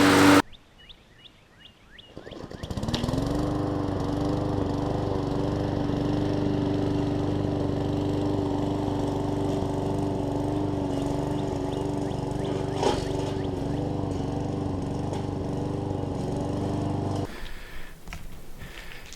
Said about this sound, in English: I stuck the carburetor on it. It's running a lot better.